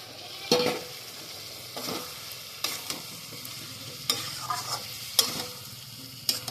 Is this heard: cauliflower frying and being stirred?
yes